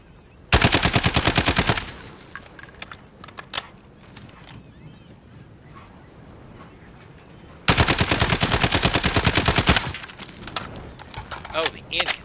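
SCAR assault rifle in Call of Duty firing two long full-auto bursts, loud and close, with a quieter stretch of scattered shots and game noise between them.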